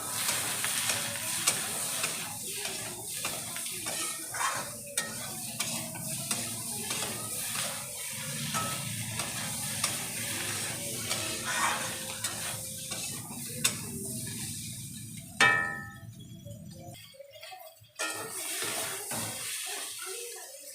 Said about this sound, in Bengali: এবার ভালো করে সবজির সঙ্গে মিশিয়ে নেব